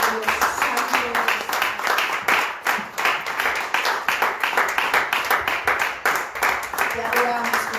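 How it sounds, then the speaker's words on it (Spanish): A church congregation claps rhythmically and continuously during worship, many hands together in a steady beat, with voices mixed in beneath the clapping. "Denle un aplauso al Señor en esta noche."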